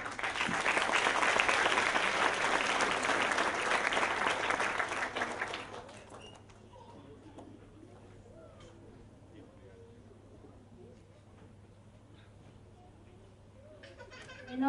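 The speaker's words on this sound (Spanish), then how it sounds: "Un fuerte aplauso, por favor." Audience applause at a certification ceremony in Santa Cruz, loud sustained clapping for about six seconds that fades into quiet room tone and low murmuring, with a sudden sound at the very end.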